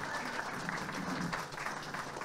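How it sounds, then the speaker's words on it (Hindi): Applause from an audience at a Hindi awards event honoring notable personalities, a soft, steady rush of clapping heard from a distance, even in level throughout. "तालियां बजती रहे"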